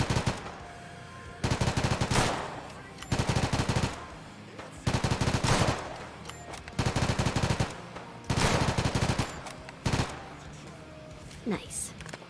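Machine gun in a modded video game firing in repeated long bursts, each a dense rattle of shots, separated by short gaps with reload clicks, loud and close, ending with a brief whoosh.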